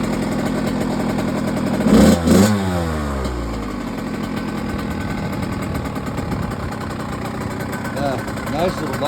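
A 1998 Kawasaki KX80 dirt bike engine runs close by, with a brief rev burst early on and then a steady idle, while people talk over it.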